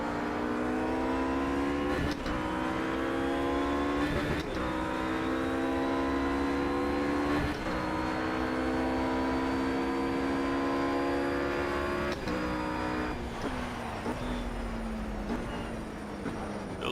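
A RUF GT3 race car in Project Cars, its engine screaming loudly and steadily climbing in pitch through the gears, each upshift marked by a sharp drop, with a series of quick downshifts near the end.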